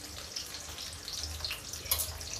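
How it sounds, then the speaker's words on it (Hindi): Tamarind water chutney trickles and splashes onto stuffed capsicum pakoras, a soft, continuous liquid pour with small drips and one brief louder splash, close and quiet, with no voices. "अब इसमें भी हम पहले डालते हैं इमली का पानी"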